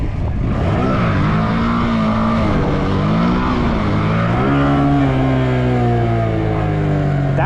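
Loud, steady engine drone from a BMW M1000XR motorcycle during slow-speed practice, with the throttle blipped so the pitch dips and rises again around the midpoint, continuous and close.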